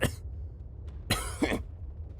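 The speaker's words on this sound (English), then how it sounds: "All within the room coughs to get rid of the dust within." Several people in a dusty room cough in short, close, sharp bursts: one at the start and a louder double cough a second later.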